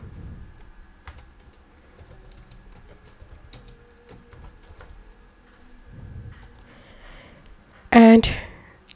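Light typing patters along on a computer keyboard as a Discord quick poll command is entered, faint and close, followed by a brief louder burst near the end.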